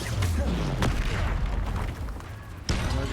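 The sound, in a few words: spell explosion from the video game Hogwarts Legacy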